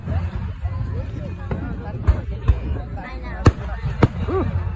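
Fireworks burst in repeated sharp booms at an outdoor Lincoln, Nebraska show, several loud cracks spaced irregularly over a steady crowd hubbub and background music.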